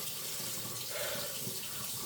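Warm water running steadily from a newly installed faucet with soldered supply lines, a faint continuous hiss and splash into the sink that keeps up without break.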